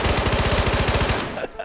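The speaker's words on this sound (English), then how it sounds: "Can you hear the gunshots go off through the mic?" Rapid automatic gunfire in the video game Ghosts of Tabor, a loud, steady burst of fast, evenly spaced shots that cuts off abruptly near the end.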